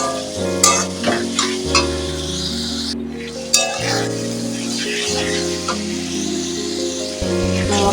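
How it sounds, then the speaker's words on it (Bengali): Ground spices and sugar frying in oil in a pan over low heat, a steady sizzle broken by scraping stirs, heard with tuneful background music throughout. "কম আঁচে মশলাটাকে ভাজবেন।"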